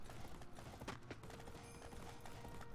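Horse hooves galloping in the Samurai Warriors: Spirit of Sanada video game, a rapid continuous clip-clop that runs steadily throughout with no talking.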